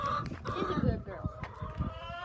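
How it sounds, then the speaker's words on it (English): Hens cluck in a chicken coop, short uneven calls mixed with a person talking nearby, all fairly quiet. "All my chickens are hens"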